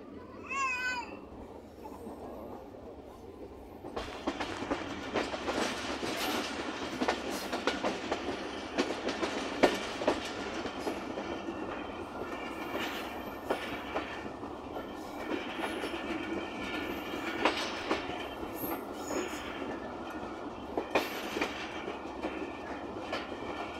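Train of the 113 Up line rolling toward Safdarabad railway station on the Faisalabad to Lahore route, with a continuous loud rumble and rattling wheel clatter heard from inside the carriage, after a quieter, brief opening.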